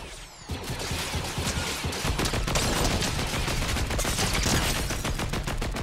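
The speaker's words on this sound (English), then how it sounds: "Now I'm getting shot at." Rapid gunfire in the video game Fortnite, dense continuous bursts of shots and impacts, loud and close, with no break for several seconds.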